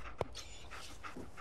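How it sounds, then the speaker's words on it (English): A dog in the video game Fallout 4 pants softly and steadily in the background, with one brief louder yelp-like burst near the start. "Doggy! Greet the doggy."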